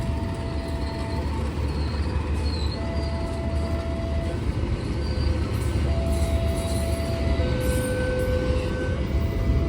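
A locomotive rumbles steadily past a busy railway level crossing in Bandung, a dense continuous roar of wheels and engine with faint tonal whines and beeps layered on top.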